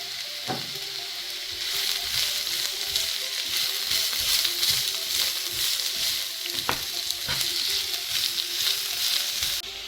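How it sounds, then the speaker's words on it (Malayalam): Sliced onions and green chillies sauté and sizzle in hot oil in a Kerala-style kitchen, making a steady, close frying crackle with occasional stirring scrapes of a spoon against the pan throughout. "ഇനി ഇതെല്ലാം നന്നായിട്ടൊന്ന് മൂപ്പിച്ചെടുക്കാം സവോള"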